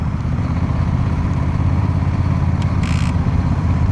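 Steady low engine rumble from a Honda Rebel 1100 DCT motorcycle running in gear, close and continuous, with a short brighter rattle or whirr appearing briefly toward the end.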